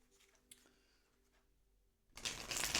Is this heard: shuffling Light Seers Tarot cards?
yes